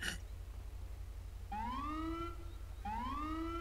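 A rising, wailing electronic police siren in a video game sweeps up twice in a row with a short gap, steady and fairly loud over a low constant hum.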